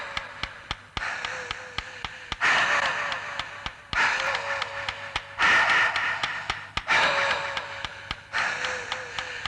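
Heavy, labored breathing from the boxer Joe in the Ashita no Joe anime, a run of snorting gasps and panting bursts over a steady ticking, repeating in uneven waves and sounding close and strained.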